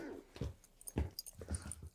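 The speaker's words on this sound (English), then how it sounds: "My dog Layla wants to go out on a run" A dog whimpering and whining to be let out for a run, several short soft yips and whines in an uneven rhythm, close and fairly faint, with no one speaking.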